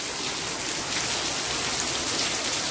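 Heavy rain pours down over farm fields in a village, a dense, even hiss of falling water that stays loud and unbroken throughout.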